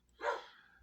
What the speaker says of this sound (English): wish these dogs would be quiet.